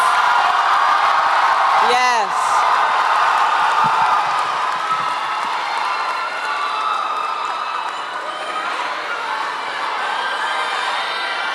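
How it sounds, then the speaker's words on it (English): Graduation crowd at the Oak Park High School 2024 ceremony cheers and applauds loudly throughout, with whoops and shouting, while a voice speaks over the noise near the start. "Let's just give them a round of applause."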